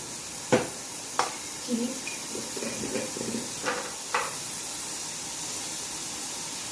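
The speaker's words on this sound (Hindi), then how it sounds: "अब मैं इसमें डाल रही हूँ टमाटर, लहसुन और प्याज। हमने ये डाल के इसे भून लेना है" Tomato, garlic and onion frying in a pan of oil, a soft continuous sizzling hiss broken by several sharp clicks and taps of a spoon against the pan, with a voice murmuring faintly at moments.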